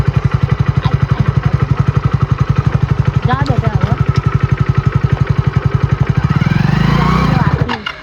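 A motorcycle engine that has been hard to kick-start runs loud and close, chugging in a fast, steady idle and then revving up near the end. A voice speaks briefly over it.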